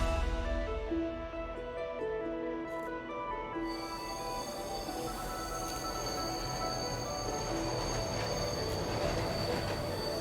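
Train pulling into a station in the video game Bright Paw, with steady rolling rumble and shrill wheel squeal building and sustained throughout, loud and continuous with no talk.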